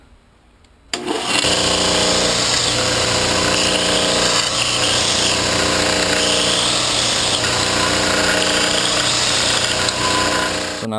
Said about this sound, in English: Gonna just clean the edges on the belt sander before I face them off on the mill.